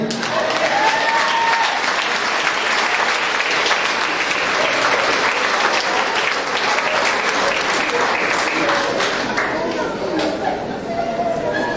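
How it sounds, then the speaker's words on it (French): A church congregation acclaims Jesus with sustained loud applause, dense clapping mixed with crowd chatter and voices, holding steady throughout. "On acclame Jésus."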